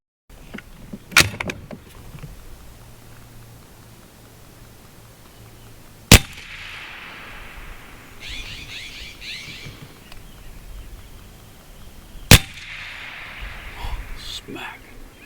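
An AEA Terminator .30 caliber semi-automatic PCP air rifle fires three sharp, loud cracks spaced several seconds apart at an outdoor range, with a person talking quietly between the shots.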